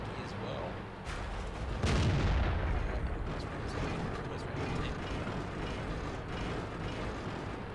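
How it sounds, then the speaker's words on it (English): Tank cannon fire in a World of Tanks tournament match, heard as a deep boom over a steady rumbling game soundscape, with a commentator talking throughout. "And that might have just missed Aku Gamer there, that shot."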